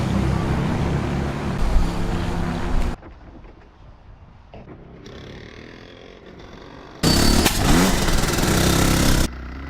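A race kart engine out on a drying track, heard in loud, droning passes that come and go, with quieter stretches in between.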